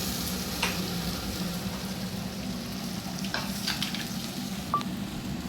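Tomatoes frying in a pan for a spicy tomato chutney, a steady close sizzle with a few faint clicks and stirring taps over it, no voices.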